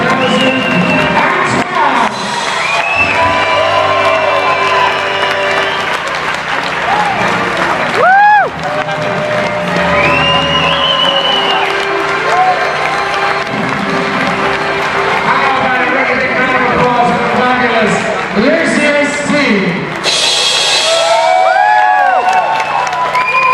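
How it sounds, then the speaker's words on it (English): A circus audience applauds and cheers for the ring crew, with loud sustained clapping, whoops and shouting children, and a voice and music running through the crowd noise. "Your applause for the ring crew"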